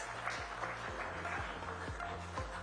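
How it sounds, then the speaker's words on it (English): A summit audience claps after a panel is introduced, a fairly faint, thin spatter of applause heard from a distance, with a low tonal hum running underneath. "Surely we can have a louder round of applause."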